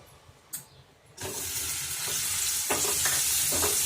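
Paneer fries in oil after a quiet start, a sudden close sizzle bursting in and holding steady, with occasional light clicks of stirring.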